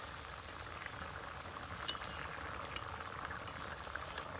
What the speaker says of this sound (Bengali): তরকারিতে খুব সুন্দর জাল উঠে গেছে।